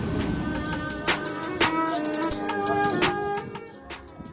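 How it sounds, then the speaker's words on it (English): A train rolls steadily into a station in Istanbul, a continuous rumble with clanking metal hits and brief squeals scattered throughout, fading slightly near the end. "Train is arriving."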